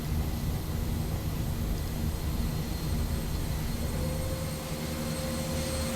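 A Tecnam P2000T light aircraft engine in X-Plane 12 during takeoff from KDSM, a steady loud droning roar with a rumbling low end and a thin whine that rises near the end.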